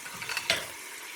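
Ground beef frying and being mashed in olive oil, giving a brief, close crackling sizzle with a stronger scrape-and-spatter burst midway.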